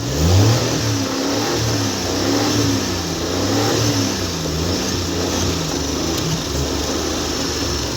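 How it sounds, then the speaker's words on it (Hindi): A Suzuki Mehran car engine, after a fuel injector fault repair, revs smoothly and steadily up and down in repeated swells, close by and continuous with no talk. "अभी जो है ना गाड़ी बिल्कुल सही रेस ले रही है"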